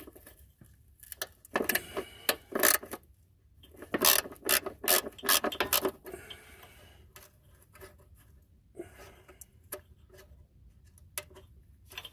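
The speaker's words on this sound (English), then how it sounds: "I like this wrench here because it is flexible" Flexible ratchet wrench turning a 10 millimeter bolt while removing an ABS unit on a 2012 Hyundai Accent 1.6L, heard as close bursts of rapid clicking ratchet strokes separated by pauses, fading to lighter ticks.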